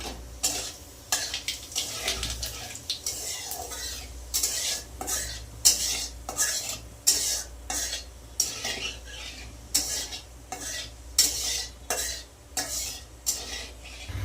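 White cumin seeds sizzling in hot oil in a pan alongside a dried red chilli, with a constant crackling fry under repeated scraping strokes of a spoon stirring at a steady rhythm, close and fairly loud.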